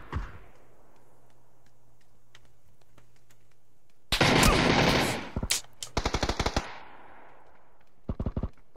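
Video game gunfire bursts out in a loud rapid volley, then comes back as separate rattling bursts, with a short final burst near the end after quieter stretches.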